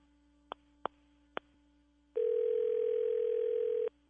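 Three short telephone keypad beeps sound in quick succession, followed by a steady, clear dial tone of about two seconds, close and alone.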